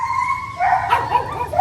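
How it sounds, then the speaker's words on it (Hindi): Dogs, including a German Shepherd and an Akita, let out high yips and barks indoors close by during a dog fight, mixed with a whining tone, in a short burst. "ये अंदर भी भौंक रहे हैं"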